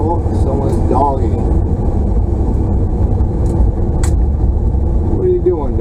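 A truck drives along with its engine running as a steady, loud rumble, while people talk over it.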